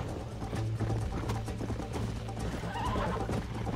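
In the Red Dead Redemption video game, a horse gallops with a rapid clip-clop of hooves and lets out a neigh partway through, loud and close, with no talk.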